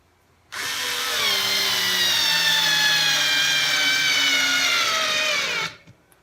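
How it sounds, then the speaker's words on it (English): A TopShak 4V cordless screwdriver set to 4 newton meters drives a screw in one continuous, close whine lasting about five seconds, its pitch slowly dropping under load before it stops abruptly. "So let's see how this one performs at 4 Newton meters. We'll drive different size screws and see how it performs."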